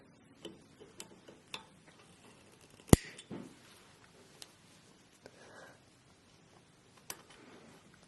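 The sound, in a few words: metal wire being cut for earrings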